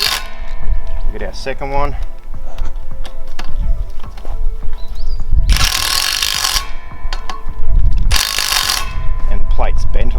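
A power driver buzzes loudly in two bursts of a few seconds each, driving tech screws into a metal fence straining plate, with clanks and rattles of metal handling around them and someone speaking briefly.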